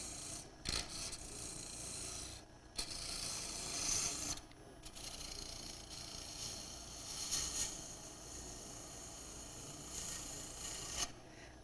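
Turning tool cutting away excess wood from a goblet spinning on a lathe, a steady rough rasping scrape that runs continuously at close range with brief pauses and sharp bursts where the tool bites.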